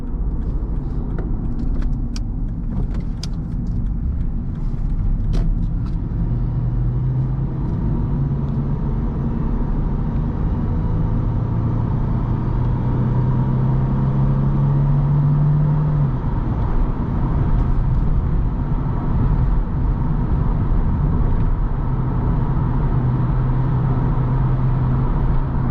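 A 2012 Lexus IS250 AWD cruising on the highway, heard from inside the cabin as a loud, steady engine and road drone with wind noise and a low rumble throughout, no talking.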